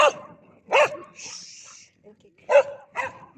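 A dog barks in short, sharp bursts close by, with a few yips and pauses between them.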